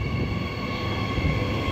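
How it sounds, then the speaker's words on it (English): EMU trains 99 and 97 pulling away from platform 2 at Currambine station on a Butler service, a steady close rumble of rolling stock with a sustained motor whine and broadband rail noise throughout. "We have EMU 99 and 97 departing platform 2 for a Butler service."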